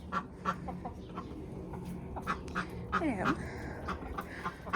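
Ducks and chickens let out of a backyard coop, quacking and clucking in scattered bursts at close range, with a brief voice now and then over the birds.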